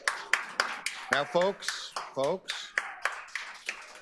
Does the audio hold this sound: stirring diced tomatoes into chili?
no